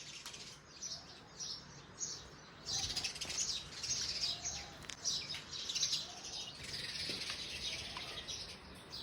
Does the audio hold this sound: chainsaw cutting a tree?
no